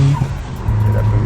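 A relatively new Subaru STI fitted with a sequential transmission drives by, its engine a loud low drone that briefly dips and then swells back up over a short stretch.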